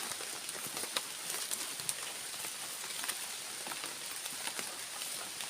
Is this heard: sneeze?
no